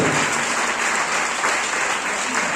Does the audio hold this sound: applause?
yes